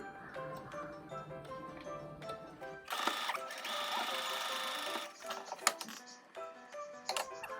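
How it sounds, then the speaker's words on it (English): A sewing machine stitches the pleats of a homemade cloth face mask in quick bursts of rapid mechanical whirring, with short pauses between runs and a steady close hum. "Now it's time to stitch the pleats."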